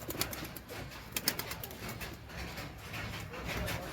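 Teddy pigeons, including Saki and KTM types, let out in a yard, with soft cooing under quick, rustling bursts of wing flaps and fluttering throughout, close to the microphone.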